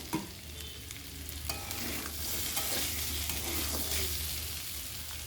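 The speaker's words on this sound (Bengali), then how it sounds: "মশলাটা প্রায় কষা হয়ে গেছে" Spice masala being stirred and fried in a pan for a rice dish, a steady close sizzle with continuous scraping stirs throughout, no voices.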